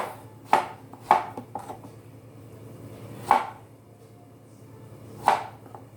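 A knife chops plantains on a cutting board in a home kitchen, four sharp, separate thuds spaced unevenly over several seconds, fairly close, over a low steady hum.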